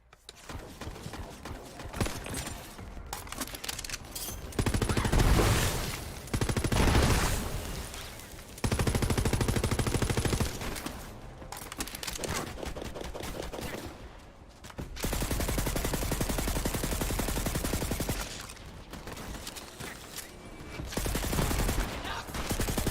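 A Hyperion SMG in Borderlands 3 fires long, rapid bursts broken by short pauses. The dense automatic gunfire is loud and comes with other game effects in between.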